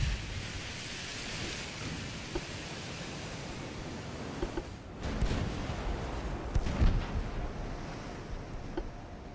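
Secondary guns fire aboard a warship in the naval video game Ultimate Admiral: Dreadnoughts, heard as a distant rumbling burst midway through over a constant rushing, rain-like wash of noise, with no talk.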